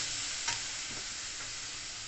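Grated coconut lightly frying in a pan, a steady soft sizzle with faint stirring scrapes, close and constant throughout.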